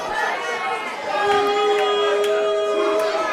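Crowd at a James Mason versus Luke Douglas wrestling match keeps up a steady murmur and chatter, with some raised voices and chanting, while a commentator talks prominently over it.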